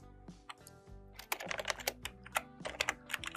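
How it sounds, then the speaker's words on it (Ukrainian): Fingers type on a computer keyboard in a quick run of crisp key clicks, heard close and faint with no talk. "Зміні S ми присвоїмо текст, який будемо вводити з клавіатури."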